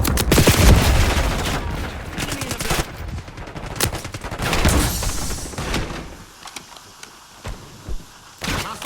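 Heavy video game gunfire: dense automatic bursts rattle loudly for several seconds, then thin out into scattered, separate shots with short gaps between them.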